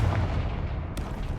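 Confringo fire spell exploding in Hogwarts Legacy, a deep booming blast with a rumbling low tail and a brief sharp crack near the end, loud and close.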